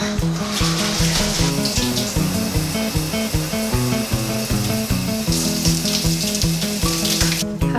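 Water splashes steadily onto a face during a test of drugstore waterproof makeup, a continuous hiss running over rhythmic background music.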